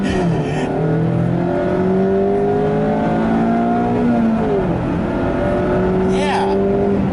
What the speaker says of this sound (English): coming to a stop sign here, we'll do a launch with the manual.